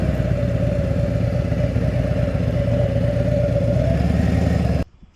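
Steady motorcycle engine running close by, a continuous mid-pitched drone with clattering texture that holds for nearly five seconds and then cuts off abruptly, with no talk.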